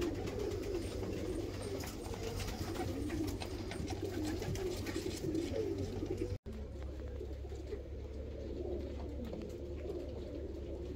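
A pair of Cimperi pigeons coo repeatedly at close range, soft rhythmic throaty calls over a steady background hum, with a brief cut partway through.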